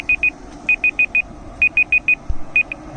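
A Pit Boss PB820FB pellet grill's timer alarm beeps in short, sharp bursts, groups of two to four quick tones separated by brief gaps, loud and close with a faint background hum.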